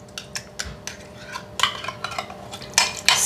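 Cream of mushroom soup with diced green chilies stirred in a pan, with a spoon scraping and clinking against the metal in a run of short strokes that grow louder toward the end, close up and with no talk.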